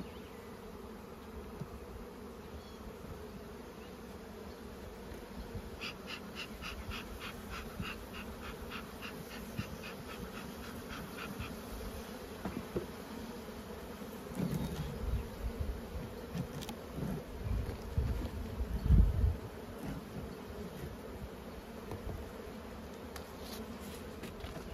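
Honey bees buzzing steadily around beehives outdoors, a dense continuous hum with individual bees droning close by now and then, louder passes near the end.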